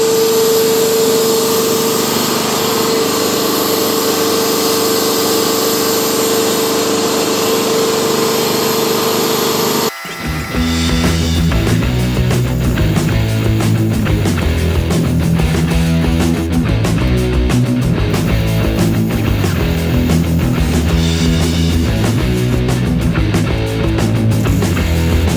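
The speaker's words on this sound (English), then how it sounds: "we're just gonna try welding this one up and see what happens" An old torque converter in a garage being welded: a steady electrical hum at first, then loud, continuous crackling and sizzling that carries on to the end.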